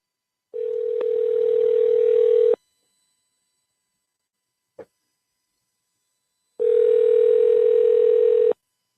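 A telephone ringback tone heard while placing a call, two long steady electronic tones separated by a silent gap with a brief click in between, loud and close with no talking.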